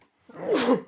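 A single short, loud sneeze bursts out from near silence, sharp and close, lasting under a second.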